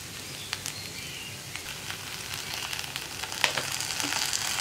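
Chili powder and tomato sauce cooking in a pan for a tomato fry, a soft, fairly quiet sizzle broken by scattered light clicks and taps of stirring.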